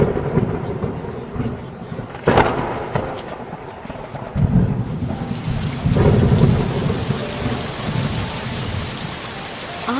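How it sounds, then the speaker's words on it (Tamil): Heavy rain pours steadily while a sharp, close thunderclap cracks early on, followed by deep rolling rumbles that swell and fade under the constant downpour. "ஒரு நாள் அந்த பகுதியில நல்ல மழை பெஞ்சுது."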